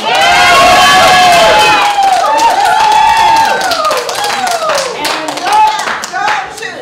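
An audience at a city council meeting bursts into loud applause and cheering, dense clapping with shouts and whoops that slowly thin out over several seconds.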